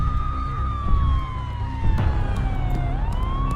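A wailing siren, meant as the call of the Siren Head monster, sweeps slowly downward in pitch and then rises again, loud and continuous over a low rumbling background.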